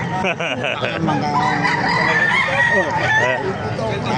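Roosters, White Kelso chickens, crow repeatedly among other fowl at a busy chicken market in Baliwag, Bulacan. The crows are fairly near and loud over constant crowd noise and background chatter.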